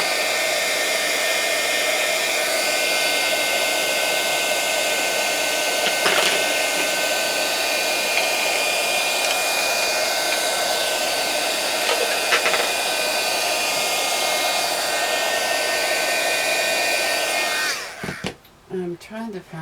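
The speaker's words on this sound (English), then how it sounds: "So, my heat gun, sorry about the noise." A heat gun blows loudly and steadily at close range for about eighteen seconds while working on a 6 x 6 mini journal album, then cuts off abruptly near the end.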